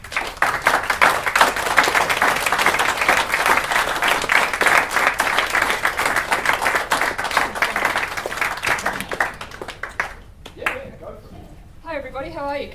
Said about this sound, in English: So could you please stand up and give Jaclyn Bold a huge round of applause.